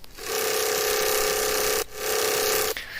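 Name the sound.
wavetable synth with unison switched from 16 to 1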